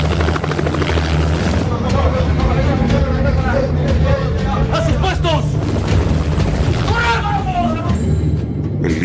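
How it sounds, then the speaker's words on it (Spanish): A loud helicopter thrums continuously close by during the 1997 Chavín de Huántar hostage rescue operation in Peru, with a crowd's babble and shouting voices mixed underneath. "Hay un helicóptero por aquí."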